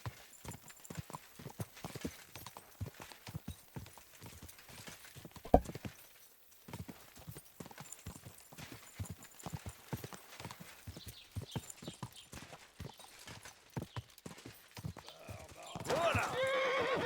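Hooves clip-clop steadily at a brisk pace, with a horse whinnying and scattered voices over the rhythmic clatter; the hoofbeats swell louder near the end.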